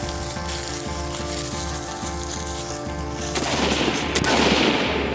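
Machine gun bursts and gunfire rattle through a firefight, a dense, continuous loud stream of rapid shots with a harsher, noisier stretch of fire toward the end.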